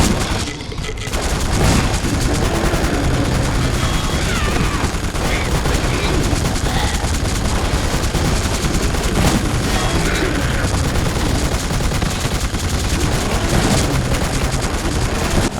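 Sustained, dense gunfire from The Suffering, a prison horror video game, with overlapping shots and booms running continuously at a steady loud level throughout.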